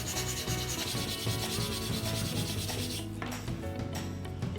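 Wood being hand-sanded with sandpaper after wood putty fills grooves and scratches on a small desktop piece, a steady close scratchy rubbing that continues without pause, loud and alone.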